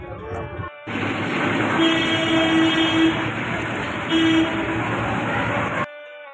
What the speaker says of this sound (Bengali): আমরা যে ট্রেনে যাচ্ছি